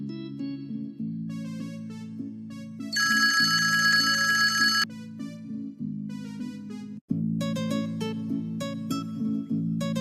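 A school bell rings in a classroom-and-playground setting as a bright electronic melodic chime, with repeated tonal phrases over a steady low drone and a short break partway through.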